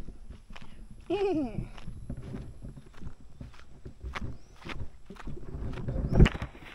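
A small horse walks along a rural province path, hooves clip-clopping in an uneven rhythm close by, with faint birds and other outdoor noises around it.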